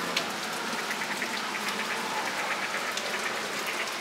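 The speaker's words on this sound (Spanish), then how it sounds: "Ya está lloviendo bastante," Rain falling at Woodland Park Zoo in Seattle, a steady, even patter of drops on nearby surfaces that holds the same level throughout, with no talk.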